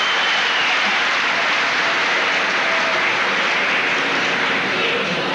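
A crowd at a 1988 Urdu literary gathering in the UAE breaks into vigorous applause welcoming a speaker, a thick unbroken roar of clapping that holds loud and even for over five seconds.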